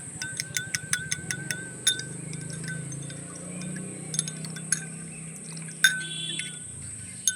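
A spoon stirs hair tonic liquid in a bowl, making light, quick clinks in a rhythmic run, then sparser taps with pauses. The sound is faint and close, over a quiet background hum.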